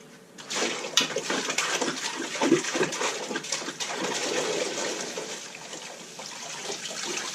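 Water swirled in a vortex inside a carboy fermenter during cleaning, a continuous churning, gurgling slosh close by that rises and falls irregularly for several seconds.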